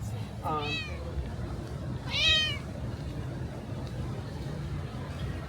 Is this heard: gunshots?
no